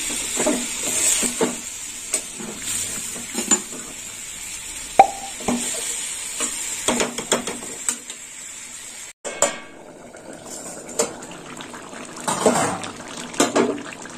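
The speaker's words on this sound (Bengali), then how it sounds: "আর একটু জল দেবো।" Water poured into a jackfruit curry in a frying pan, with hissing sizzle, plops and clinks of a spoon against the pan, a sharp break midway, then softer bubbling and scraping.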